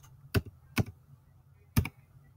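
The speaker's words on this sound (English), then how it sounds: "So I'm going to type it in exactly how I see it" Three distinct, crisp key presses on a computer keyboard while a class code is typed in, close and quiet with short uneven gaps between them.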